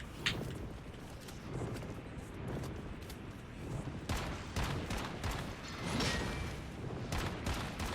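Shotgun blasts ring out in the survival shooter Once Human, a run of sharp, punchy shots spread over several seconds over steady background game noise.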